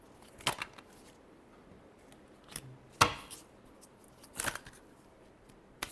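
Tarot cards being shuffled by hand: a few crisp, papery riffling bursts, close and fairly soft, separated by quiet pauses, with no voices.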